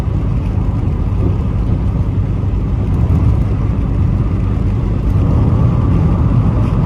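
A BMW 316i accelerating up a ramp at speed, heard from inside as a loud, steady low engine drone and road roar with no voices over it.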